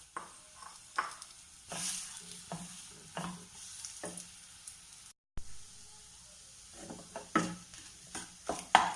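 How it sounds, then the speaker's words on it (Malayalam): Crushed dates sauté in hot ghee for a sugar-free payasam, with a soft background sizzle and repeated scraping stirs of a spoon in the pan in irregular bursts. "ഡേറ്റ്സ് ഈ നെയ്ക്കകത്തിൽ കിടന്ന് ഒന്ന് വഴറ്റിയെടുക്കുക"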